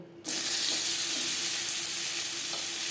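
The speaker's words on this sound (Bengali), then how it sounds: "সবার প্রথমে আমি লাউ সেদ্ধ বা ভাজা করে নেব।" Chopped bottle gourd hits hot mustard oil with a sudden loud sizzle that keeps frying steadily and close up, with no talking.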